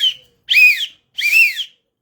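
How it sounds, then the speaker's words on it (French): Two long, bright whistle blasts, each warbling up and down in pitch, separated by a short silence and sounding alone, marking the end of a recess. "je ne sais pas si vous entendez ce sifflet, c'est la fin de la récréation."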